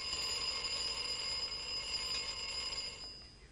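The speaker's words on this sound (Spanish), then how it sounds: "La información en forma de sonido de un despertador llega desde fuera del cuerpo" An alarm clock rings continuously with a bright, shrill metallic tone, steady and fairly loud throughout before cutting off at the end.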